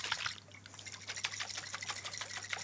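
Sesame ginger dressing with sesame oil shaken hard in a lidded jar, a steady close sloshing and rattling of liquid that carries through the whole stretch with no pauses.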